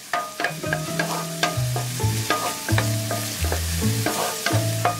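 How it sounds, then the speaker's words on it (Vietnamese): Minced shallots and garlic sizzle steadily in oil in a pan while a utensil stirs and scrapes in a repeating rhythm, loud and close. "mình cho vào 1 muỗng canh hành tỏi băm, phi lên cho thơm"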